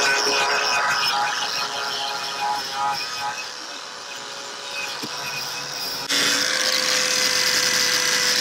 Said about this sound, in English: I use a Milwaukee, not sponsored, a Milwaukee grinder with a wire brush